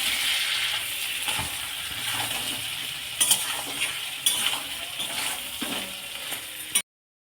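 Prawns coated with turmeric and salt sizzle steadily in a pan while a spatula scrapes and stirs, with a few sharper clanks near the end before the sound cuts off.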